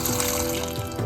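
Water is poured into a pot holding soya chunks, a close, steady splashing trickle that runs for about a second with no voices.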